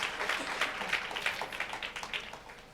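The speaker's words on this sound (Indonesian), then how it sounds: "Boleh tepuk tangannya di extend buat worship leaders dan para musicians" A church congregation claps for the worship leaders and musicians, a moderate, fairly quiet round of applause with loose overlapping claps that slowly fades.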